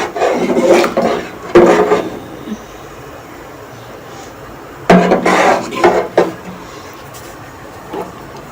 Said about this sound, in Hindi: और हम चम्मच चलाते रहेंगे थोड़ी थोड़ी देर में ताकि ये नीचे ना लगे